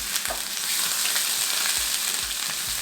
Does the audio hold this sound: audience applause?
no